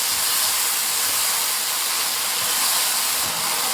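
Greens sizzle in a hot wok with starch slurry, a steady loud hiss of frying that holds evenly throughout with no voices.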